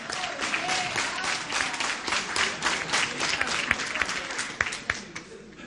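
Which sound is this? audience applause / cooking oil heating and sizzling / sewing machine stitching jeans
audience applause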